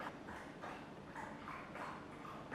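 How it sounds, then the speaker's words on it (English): Close, wet lapping of a dog drinking water repeats in a steady rhythm of soft, quick slurps, with no one talking. "That's the dog drinking water."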